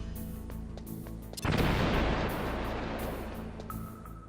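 Explosions and gunfire in the video game Metal Gear Solid: a sudden loud boom hits midway, followed by a rumbling, crackling blast tail over faint background game music.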